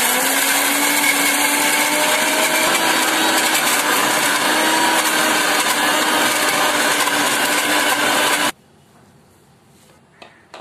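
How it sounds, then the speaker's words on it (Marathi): A kitchen mixer grinding pieces of fresh coconut roars loud and steady for about eight seconds, then cuts off abruptly, leaving a few faint clicks and handling sounds. "आता मिक्सर मध्ये टाकते आणि बारीक करते"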